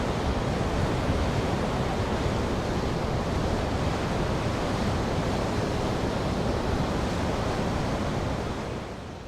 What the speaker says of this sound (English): The force of the water means you can't hear the road.